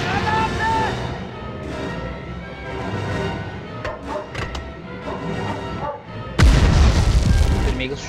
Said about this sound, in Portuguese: Chutou a granada.